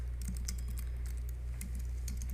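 Code is typed on a computer keyboard in quick, close keystroke clicks over a steady low hum, with no talking.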